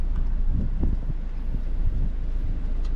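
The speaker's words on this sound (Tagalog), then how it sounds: "Sobrang lakas ng hangin." Strong wind gusting over a fishing boat at sea in the Caribbean, heard as a loud, steady low roar and buffeting rumble against the microphone that holds throughout without pause.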